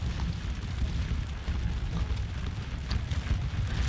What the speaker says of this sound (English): that cannon fire builds up fast.